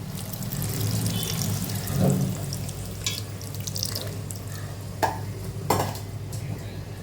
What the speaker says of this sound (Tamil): இப்போ இதில் நம்ம கரைச்சி வச்சிருக்கிற புளி தண்ணி சேர்த்துக்கலாம்.